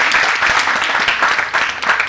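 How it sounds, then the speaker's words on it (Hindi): A debate audience claps in a dense, steady burst of applause that fills the whole short stretch, moderately loud with no pauses. "एक बार जोरदार तालियां हो जा सकती है।"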